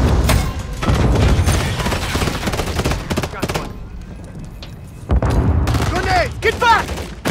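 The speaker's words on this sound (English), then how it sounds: "Grenade, move!" Gunfire bursts and grenade blasts from an online Call of Duty: Modern Warfare 3 (2023) Hardpoint match, loud and dense at the start, easing in the middle, then returning with more shots and booms while players shout over the action.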